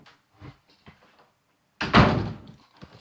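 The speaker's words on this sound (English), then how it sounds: "Let me close this door." An indoor door is shut with a single solid thunk, preceded by a few soft handling taps and followed by faint knocks, with no talking.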